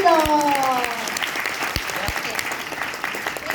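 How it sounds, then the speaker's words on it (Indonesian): Audience applause at an insurance company's annual award event: a burst of clapping from a seated crowd, starting full and gradually thinning, with a few sharp knocks and a brief tonal sweep early on. "Yes, tepuk tangan dulu dong."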